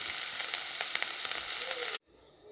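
Ginger-garlic paste sautéing in a hot pan, a steady bright sizzle with faint crackles and stirring that stops abruptly after about two seconds, followed by near silence.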